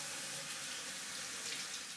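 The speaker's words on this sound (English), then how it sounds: "now to do Doug's froth method, we are going to first fill up the top cap" Tap water runs into the top cap of an Ariana & Evans London shaving soap tub, a steady, hissing pour heard close up and continuous, with no talking.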